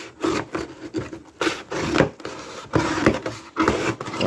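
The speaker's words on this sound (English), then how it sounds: "I'm cutting cardboard with it" A freshly sharpened knife slices through an old oil filter cardboard box in repeated short strokes. Each stroke gives a close, dry rasp and tear, with brief gaps between cuts.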